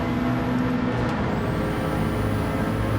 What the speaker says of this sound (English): The fact that there's long gear changes sounds like the old Le Mans car as well